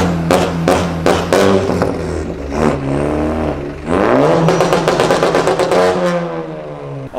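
A big car's engine revs hard nearby, with loud rising and falling throaty sweeps and rapid popping pulses, the engine note climbing sharply midway.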